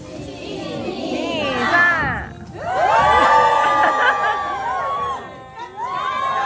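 Fans at a K-pop fan signing event for Moon Jong-up scream and cheer together, a loud, dense crowd roar that surges, briefly drops, then swells again.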